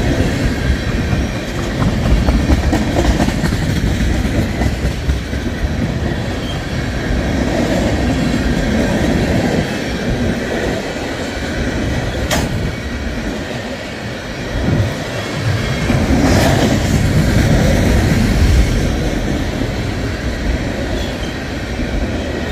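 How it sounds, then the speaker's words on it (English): An empty westbound tank-car freight train rolls past at Cedar Street, Bonner Springs, on the Kansas subdivision. Its loud, steady roar of wheels and rattling cars continues throughout, with occasional clanks and brief metallic squeals. "This was a 3x0 westbound tanker empty on the Kansas sub, Cedar Street, and Bonner Springs."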